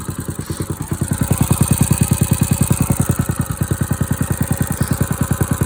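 An engine idles steadily while warming up on a cold night before snow, with an even, close, chugging pulse and a faint ticking over the low rumble.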